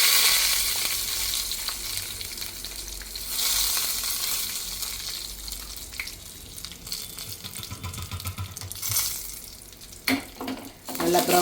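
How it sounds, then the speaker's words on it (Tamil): Cashews and curry leaves sizzle in hot ghee in a pan, a steady frying crackle with occasional stirring and a brief splash of running water near the end. "வடைச்சட்டியில் நெய் ஊற்றிட்டு காஞ்ச பிறகு கொஞ்சம் கேஷ்நட்டு போட்டு தாளித்து நம்மளோட பொங்கலில் போட்டுக்கலாம்"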